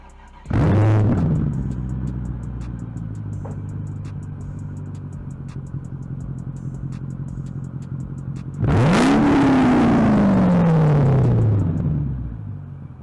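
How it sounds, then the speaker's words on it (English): A Mercedes CLK 500 AMG with an aftermarket exhaust barks into a sharp rev, settles into a rumbling idle, then revs again with a long deep roar that winds back down, loud and close. "The exhaust is absolutely insane in this vehicle."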